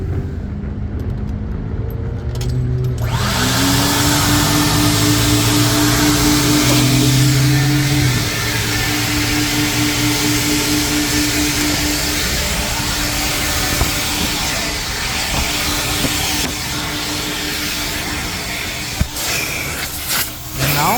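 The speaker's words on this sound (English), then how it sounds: "vacuum cleaner, you can vacuum all the areas of your car." A coin-operated car vacuum at a gas station runs with a loud, steady whooshing roar of suction, starting up and holding constant with occasional nozzle scrapes nearby.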